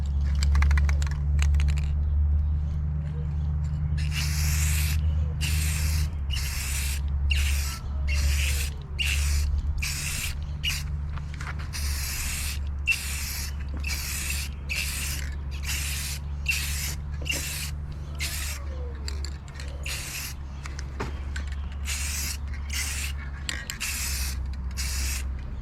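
Aerosol tint sprayed onto Pontiac G8 GT taillights: a long series of short hissing bursts in a steady rhythm, close and loud over a low background hum, with no talking.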